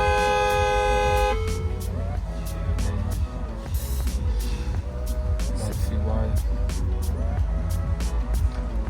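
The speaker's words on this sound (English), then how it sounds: "do a test just to make sure the horn works" Horn of a Mercedes ML63 AMG sounding during a test after a GLE63 S AMG sport steering wheel retrofit, a loud steady tone at the start, then repeated short honks mixed with other noise.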